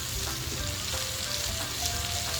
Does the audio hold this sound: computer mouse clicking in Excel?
no